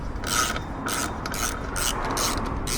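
Socket wrench ratchet on a 17mm socket undoing the single central hubcap bolt on a Fiat, several quick close ratcheting bursts in steady rhythm over a hissy background.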